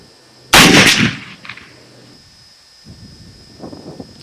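A single loud 458 Winchester Magnum rifle shot with no muzzle brake cracks out close by, followed by a short decaying rumble, then quiet with faint movement and a soft voice in the background.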